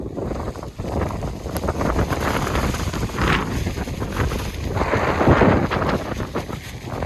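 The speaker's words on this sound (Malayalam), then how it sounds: "മഴയും കാറ്റുമാണ് കാറ്റത്ത് പാറിപ്പോകുമെന്ന് പോലും അറിഞ്ഞൂടാ അത്രയ്ക്ക് കാറ്റുണ്ട്" Strong wind and rain in a rural farming village near Tenkasi, heard as loud, gusting roar and buffeting across the microphone, with rain noise beneath and no voices.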